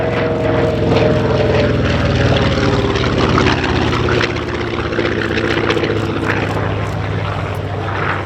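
At an air show, an F6F-5 Hellcat fighter plane drones past with a loud, heavy radial-engine roar that holds strong and slowly shifts in pitch as it passes.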